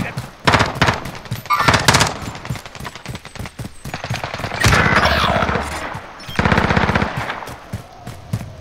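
Gunfire in a video game shootout at a firehouse: rapid bursts of automatic fire and single shots, loud and close, in several clusters with short gaps between them.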